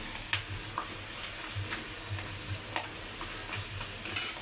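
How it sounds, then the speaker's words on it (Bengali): Homemade potato chips frying in hot oil make a steady, moderately quiet sizzle with a scattering of sharper pops and crackles, heard on their own without any speech. "আলুর চিপ ভাজা শেষ"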